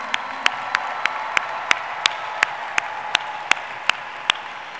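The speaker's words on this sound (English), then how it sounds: "let's give our Junior First LEGO League teams a huge round of applause" Audience at the 2015 FIRST Championship closing ceremony applauding, a broad crowd clapping wash with sharp distinct claps recurring regularly, fairly loud and without talk.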